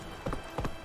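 Two quick pairs of horse hooves clip-clopping at a trot in The Witcher 3, crisp and close, each pair a double thud.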